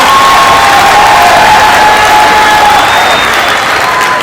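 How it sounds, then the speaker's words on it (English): Audience at an art camp event breaking into loud, sustained applause with cheering and shouts, a dense crowd roar filling the space without pause. "Come on, give him a round up,"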